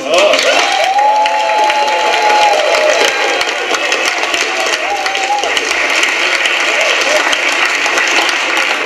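Audience applause at a radio station event in a village sports club setting, a dense, continuous clapping crowd heard throughout, with whistles or cheers rising above it early on and voices mixed in.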